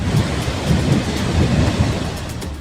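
Heavy rain and rolling thunder in the Bundelkhand region of Uttar Pradesh, a loud, continuous low rumble over dense, steady rainfall, close and unbroken throughout.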